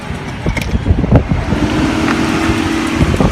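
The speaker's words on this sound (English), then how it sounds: "they're moving the car that I looked through." A police car is driven away nearby outdoors, a loud rumbling engine and road noise mixed with heavy wind buffeting, and no talking.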